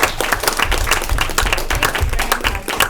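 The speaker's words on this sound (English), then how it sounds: "I think we do need to have a round of applause for our presenter" A school board training audience applauds its presenter, a steady burst of many hands clapping close and loud for about three seconds.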